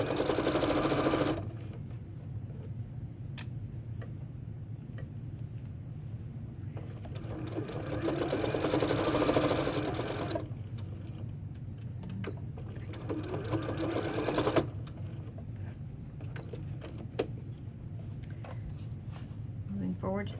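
A sewing machine stitches fabric for a strawberry-themed drawstring bag, with three separate runs of fast, whirring stitching broken by quieter pauses.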